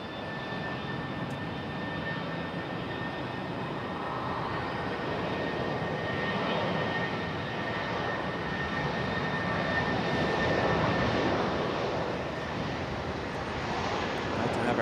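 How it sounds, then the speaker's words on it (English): A JetBlue jet departs Raleigh-Durham airport, its engines giving a loud, steady roar that fills the whole stretch and swells slightly toward the end, with no talk over it. "Got JetBlue departing."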